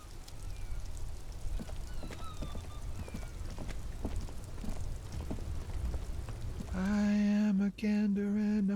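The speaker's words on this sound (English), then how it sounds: "It's raining again." Steady rain falls in the video game Disco Elysium, a soft continuous patter that fills the scene, later joined by a loud sustained tonal hum with brief breaks near the end.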